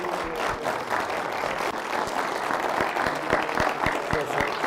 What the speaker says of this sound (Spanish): Por favor, un aplauso para...